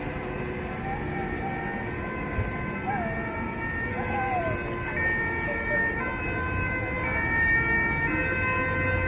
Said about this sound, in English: Here's another ambulance.